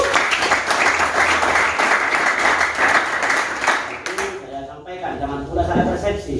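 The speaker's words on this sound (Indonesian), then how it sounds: "Berikan tepuk tangan." An audience at a school gathering for teacher introductions applauds with a dense burst of clapping for about four seconds, then it thins out and a voice speaks.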